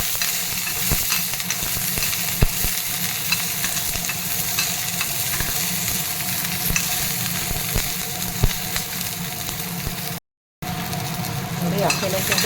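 Green chillies fry in oil over a low flame, a steady close sizzle and crackle running the whole time with occasional stirring knocks and a brief dropout near the end.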